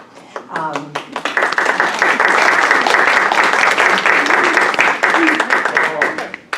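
An audience at a heritage society program claps, with scattered early claps building into sustained applause that thins out toward the end, while a voice speaks over part of it.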